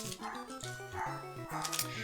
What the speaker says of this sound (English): We're just going to ignore my dog.